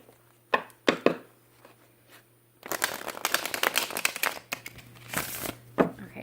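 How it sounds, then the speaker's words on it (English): Tarot cards being shuffled during a reading, a dense run of crisp riffling and slapping card noise after a few scattered taps, close and fairly loud with no talk over it. "one more shuffle."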